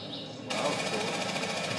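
A chainsaw in a video game kicks in with a sudden buzzing, rattling drone that holds steady after a brief quieter lead-in, close and loud.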